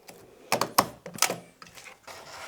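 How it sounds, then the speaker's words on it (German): A stapler snaps through a paper piecing template several times in quick, uneven succession, crisp close clacks with short pauses between them. "Ich tackere das auf der zweiten Seite."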